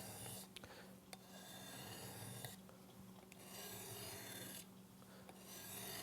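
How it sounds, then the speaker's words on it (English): A diamond sharpener rasps across a knife edge in a few slow, light strokes, each a soft close gritty scrape separated by short pauses, with no talk. "It's not a lot of pressure, and you can kind of hear the diamond cut."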